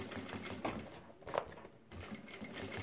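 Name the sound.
sewing machine stitching the seam closed on top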